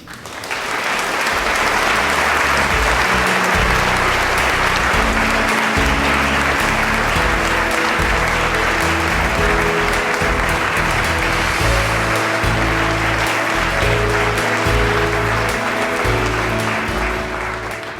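An audience applauds an award winner, steady loud clapping that swells quickly and holds for a long stretch before easing slightly at the end, with no one speaking over it.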